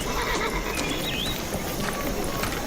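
A horse neighs with a rising whinny, and hooves clip-clop nearby in a busy outdoor scene from a Hindi-dubbed adventure film.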